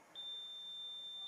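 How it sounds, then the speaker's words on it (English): A quiz buzzer at a medical conference event rings as a steady, single electronic tone, holding for over a second at moderate volume in a quiet room. "we cannot move without the buzzer being set"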